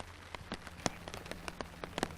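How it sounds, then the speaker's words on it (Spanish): Rain keeps falling in cold weather in the Canary Islands. It makes a steady soft patter with distinct drops ticking sharply on a surface, fairly faint and with no voices. "Hace mucho frío y sigue lloviendo, como pueden comprobar"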